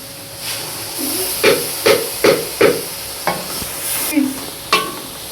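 A garlic, ginger and green chilli paste fries with onion and salt in a pan, giving loud close sizzling with rhythmic stirring scrapes about every half second and bursts of hissing steam.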